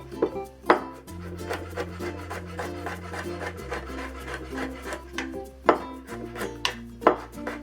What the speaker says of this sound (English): And next we'll slice the garlic.